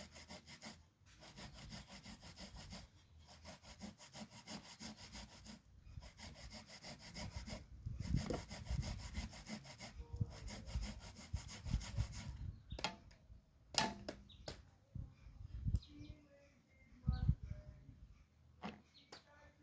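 Plantain is grated on a grater in steady, rhythmic rasping strokes that are close but soft, slowing into more irregular scrapes toward the end.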